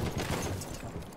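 Rifle shots in Battlefield 1 boom together in a dense, loud volley with rolling battlefield noise, all within about a second.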